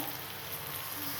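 Steady close sizzle and frying hiss from ilish fish in a hot pan as water is poured in, a continuous dense crackle with no voices.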